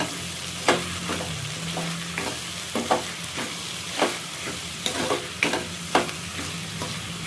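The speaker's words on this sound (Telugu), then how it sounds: "కారం వేసుకొని ఒక్కసారి కలిపేసి మనం సాల్ట్ కలుపుకుందాం." Okra and tomato curry stirred in a pan after chili powder goes in, a soft frying hiss broken by repeated scraping strokes of a spoon against the pan, close and with no talking.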